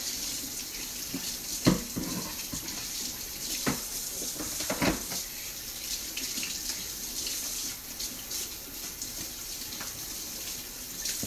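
Eggs rinsed under a running kitchen tap, a steady close hiss of water with a few soft knocks and splashes as they are handled.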